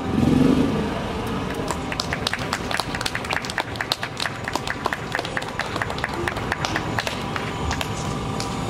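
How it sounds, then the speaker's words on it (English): Audience applause at an International Women's Day gathering in Vancouver rises sharply after a speaker is introduced, dense sustained clapping from a crowd filling the room and holding steady with scattered individual claps. "Round of applause for Ms. Sanaaz"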